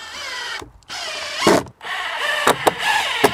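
A power drill drives screws into a sheet of metal on a micro cabin, giving several short, high whirring bursts with brief pauses between them, close and clear.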